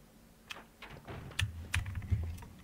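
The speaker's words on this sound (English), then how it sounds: "You can actually hear his keyboard." Quiet computer keyboard typing picked up over a microphone during a Resident Evil 2 speedrun, a few scattered keystrokes growing into a brief burst of clicks.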